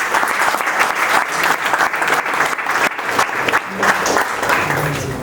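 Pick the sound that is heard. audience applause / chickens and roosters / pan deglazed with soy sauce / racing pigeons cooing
audience applause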